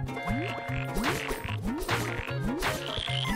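Frogs croaking in the video game Wonder Boy: The Dragon's Trap, a steady loop of repeated rhythmic croaks over game music, loud and continuous with no talking.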